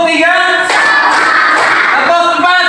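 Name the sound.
classroom clapping in a clap pattern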